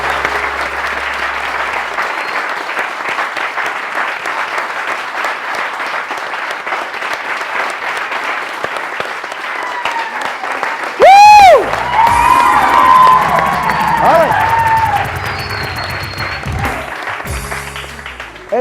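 A studio audience at a televised morning talk show claps steadily and loudly for about eleven seconds, then the applause gives way to a sudden burst of music and sound effects.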